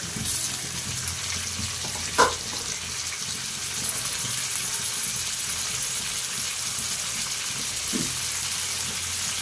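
Chicken pieces fry in a pan with a constant, even sizzle that runs the whole time, marked by a single clear knock near the start and a softer utensil tap later.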